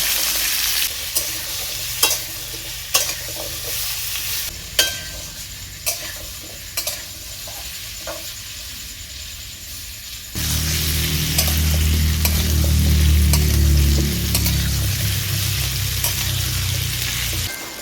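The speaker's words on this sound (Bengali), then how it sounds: "মিষ্টি কুমড়োটাকে আমি হালকা ভেজে নেব।" Pieces of sweet pumpkin frying lightly in hot oil in a pan for a Bengali pumpkin chhokka, with occasional scraping stirs and taps at first, then a loud continuous sizzle as the pieces settle into the oil.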